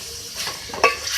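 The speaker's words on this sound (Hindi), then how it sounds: "अब इसमें मैं हाफ kg जो है लौकी ऐड कर रही हूँ। इसको भी हम भूनेंगे लौकी डालने के बाद।" Bottle gourd (lauki) fries with beef in a pot for a brief moment, with soft sizzling and a quick stir that ends in a sharp metallic clink of a spoon against the pot.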